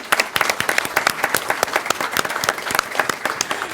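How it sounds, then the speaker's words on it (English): Conference round-table audience applauding, a dense, steady wash of many hands clapping close by with no voices over it. "let's applaud to Vivienne for her excellent facilitation"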